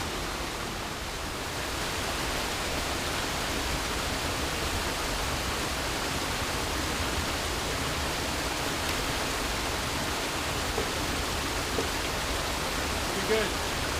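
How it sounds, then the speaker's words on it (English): Continuous broadband rush of small cascades under big trees on Vancouver Island, steady and fairly soft, with no other distinct sounds. "There's a lovely little couple of cascades coming down here with the big trees hanging over the top."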